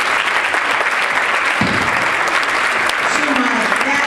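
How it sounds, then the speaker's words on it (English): An audience applauds at a women's leadership award ceremony at The Henry in Dearborn, Michigan, loud, dense, steady clapping throughout, with a faint voice beneath. "I would like you to give them a round of applause"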